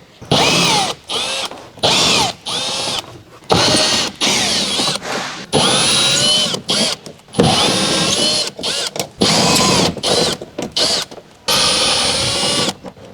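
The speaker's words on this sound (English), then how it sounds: "Using the impact driver with the 8mm short socket, remove the rear inner fender liner and rear fender flare retaining bolts." An impact driver with an 8mm short socket spins out rear inner fender liner and fender flare retaining bolts on a Dodge Ram 1500, loud repeated whirring bursts of one to two seconds separated by brief pauses.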